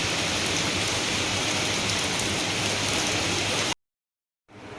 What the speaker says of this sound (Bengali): তো দেখো প্রচুর জোর মানে বৃষ্টি হচ্ছে, এত বৃষ্টি হচ্ছে।